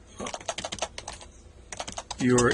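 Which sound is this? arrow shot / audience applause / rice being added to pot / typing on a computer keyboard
typing on a computer keyboard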